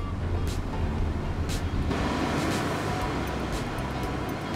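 A Valtra tractor engine in Farming Simulator 22 drones steadily and loudly throughout, a close, continuous low rumble with a few brief brighter bursts of mechanical noise layered on top and no talking.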